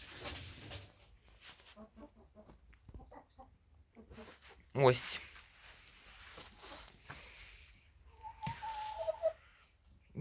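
An aggressive, molting rooster clucks among hens at dusk in a farmyard, giving scattered short calls at close range, with someone speaking between the clucks.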